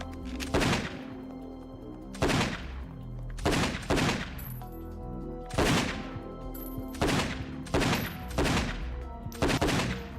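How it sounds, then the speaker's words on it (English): Loud shotgun blasts in the PS2 game Don 2 fire at point-blank range, eight heavy booming shots at irregular intervals of roughly a second, each with a short decaying tail. "4 headshots point blank with a shotgun"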